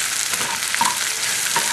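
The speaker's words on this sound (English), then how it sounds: "right now I'm frying up some shallots" Shallots frying over medium heat, sizzling and crackling in a hot pan, a steady frying hiss with occasional soft stirring scrapes, close and fairly loud.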